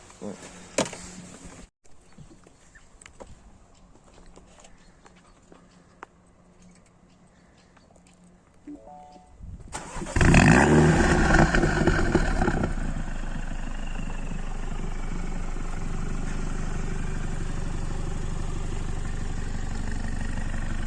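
A Mini John Cooper Works F56 with stage 1 tune and original JCW exhaust starts after a quiet stretch, firing up loudly with a rev flare, then settles into a steady idle, heard close while people talk nearby.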